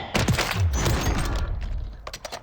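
Gunfire in Warzone 3: a rapid cluster of loud, close shots with heavy low thump, rattling for over a second before trailing into a few softer pops.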